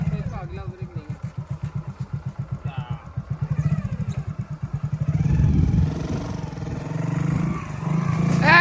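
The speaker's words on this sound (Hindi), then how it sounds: "मोटरसाइकिल तो निकल गई" Motorcycle engine revving and chugging in a farm field as it pushes through a deep pothole, a steady pulsing mid-range rumble that rises toward the end, with people talking over it.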